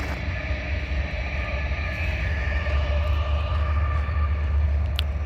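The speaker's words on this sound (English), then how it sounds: "Yeah, that's the train." A train passes near a dirt lot off Highway 99 in Fresno, giving a steady, loud low rumble with sustained tonal hum and a brief high squeal near the end.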